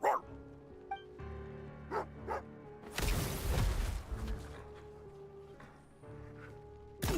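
A hunting dog in the video game Genshin Impact, set in snowy Snezhnaya, gives a few short barks and yips amid in-game music and effects, with a loud burst of noise midway and talk around it.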